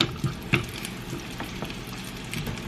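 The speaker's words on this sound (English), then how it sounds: "now we're gonna add that shrimp, and it's gonna sizzle a lot" Shrimp crackles and sizzles steadily in a hot pan, with a couple of sharp clinks of a utensil near the start.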